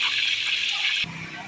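Water gushing from broken water pipes, a steady loud hiss and splash of flowing water that drops in level partway through, with no talk over it.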